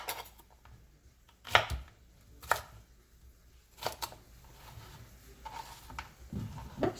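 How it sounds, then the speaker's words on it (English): A knife chops cucumber into cubes on a cutting board, a few sharp irregular knocks spaced apart against a quiet kitchen background, close and clear. "first cut the cucumber"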